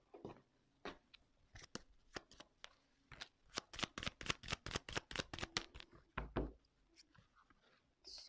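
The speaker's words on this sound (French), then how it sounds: "je vais prendre quelques cartes," Cards are shuffled and drawn for a tarot reading, producing a quick run of crisp riffling flaps and snaps up close at a moderate level, with a few softer card slides and no talk.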